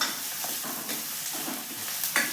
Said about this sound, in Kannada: ಇದಕ್ಕೊಂದು ಈರುಳ್ಳಿನ ಚೆನ್ನಾಗಿ ಒಂಬಣ್ಣ ಬರೋವರೆಗೂ ಹುರ್ಕೋಬೇಕು ಎಣ್ಣೆಯಲ್ಲಿ.